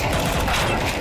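Rapid automatic gunfire in Counter-Strike 2, a dense, loud burst of shots filling the whole brief moment.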